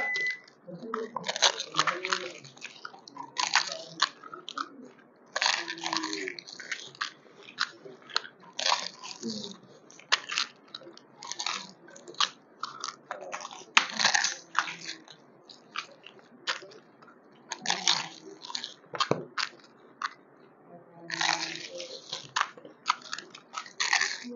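Fuchka being eaten in an eating challenge: loud, close crunchy bites and chewing come in irregular clusters over about twenty seconds, with short pauses between mouthfuls.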